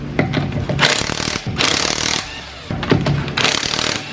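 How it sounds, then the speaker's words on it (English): DeWalt electric impact wrench taking lug nuts off a car wheel, loud, close rattling hammering bursts in several runs with brief gaps between them. "If y'all don't have yourself a dang DeWalt lug taker offer thingy, it's electric"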